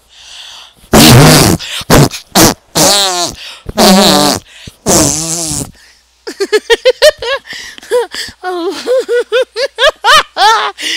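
A child's mouth imitation of farts: several long, loud, wet raspberry blasts, then a fast run of short sputtering pops close to the mic, with no other sounds.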